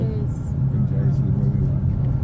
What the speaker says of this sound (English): this is us in the car, in the minivan